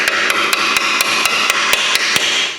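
Repeated metal-on-metal hammer blows drive a socket against a cotter pin on a Subaru Crosstrek during ball joint work, about ten sharp, evenly spaced strikes, close and loud, with no talking.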